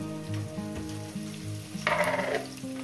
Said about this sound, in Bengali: পেঁয়াজগুলো গরম তেলের মধ্যে, গ্যাস আমার জ্বলছে, একদম লোতে দেওয়া আছে, দিয়ে দিলাম পেঁয়াজ কুচোগুলো